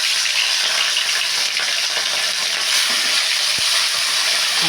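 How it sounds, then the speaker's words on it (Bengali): Fish frying in a hot wok of mustard oil, a steady close sizzle and crackle filling the whole stretch with a few small clinks, no voices. "মাছটাকে আমি ভেজে নিচ্ছি"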